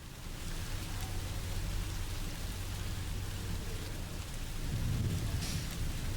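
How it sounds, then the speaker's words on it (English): Steady rain pours down with a deep, rumbling roll of thunder in the horror video game Song of Horror, a continuous hiss with low rumbles swelling near the end, no voices. "Still raining."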